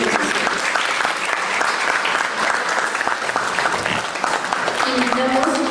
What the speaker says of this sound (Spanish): Brindemos un fuerte aplauso al doctor Osvaldo Pesfil Capuñay por su excelente exposición.